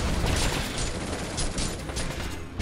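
Rapid bursts of gunfire from the video game Binary Domain, a dense, continuous fusillade of overlapping shots at steady loudness filling the whole stretch.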